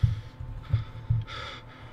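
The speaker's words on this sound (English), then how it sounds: "you're breathing a lot" Heavy breathing from an astronaut character in a space video game: a few deep, close breaths in a slow rhythm, followed by a brief airy hiss.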